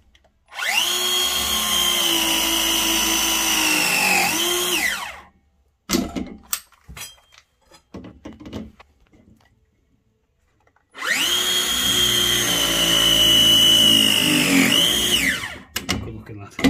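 A power tool crimps an expansion vessel pipe fitting on an overpressurising heating system in two long, loud, steady motor whines. The whines are separated by clicks and clatter, and voices are heard in between.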